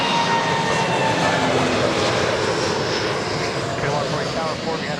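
Airliner jet engines at Toronto Pearson airport produce a continuous, loud broadband roar with a faint whine on top, steady throughout with a slight easing near the end; a voice can be heard talking over it.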